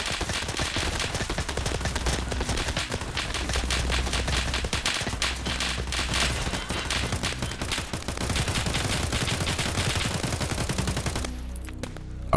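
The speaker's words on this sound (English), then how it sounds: "Out of nowhere, a hail of gunfire erupted from a nearby building." Sustained heavy machine gun fire rattles in dense, continuous bursts for about eleven seconds in the Escape from Tarkov shooter, loud and close, fired from a nearby building, then cuts off abruptly near the end.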